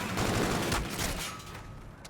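Gunfire from a hardpoint fight in a competitive esports video game match, Rogue against Pulse Gaming, heard as a dense, continuous burst of overlapping shots lasting about two seconds.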